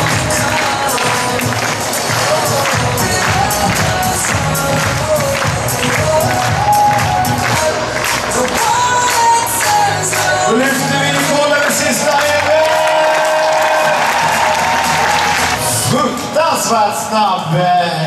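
A crowd of spectators cheers and shouts for a relay runner at a star relay race, a dense, loud roar that swells and fades, with a commentator's voice speaking over it.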